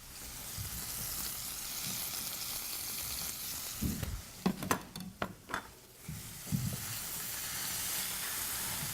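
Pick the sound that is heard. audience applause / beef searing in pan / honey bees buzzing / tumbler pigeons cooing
beef searing in pan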